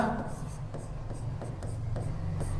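Chalk or marker writing on a board during a physics class, a run of short scratchy strokes in an irregular rhythm, with a teacher's voice faintly underneath.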